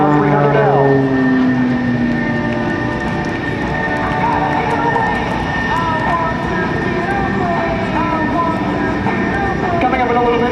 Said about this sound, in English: Hovering the airplane like a helicopter.